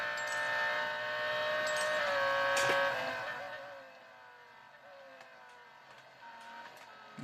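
A Lamborghini Huracan R3 Spec race car engine in the racing video game Real Racing 3 whines at high pitch, holding steady before easing off into a quieter drone.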